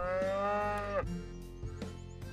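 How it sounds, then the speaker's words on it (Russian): A cow lows in a Russian village simulator game, one long drawn-out moo with a falling pitch at the end, then a few quieter soft thuds and clicks of farm-game activity. "Коровка, иди сюда, моя хорошая."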